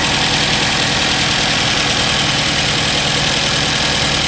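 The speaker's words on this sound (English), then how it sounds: "All the injectors seem to be pulsing. Seems to be running smoothly." A Jeep engine idles steadily after a repair to its injector wiring, a loud, even, continuous rumble and hum that stays constant throughout with no voices.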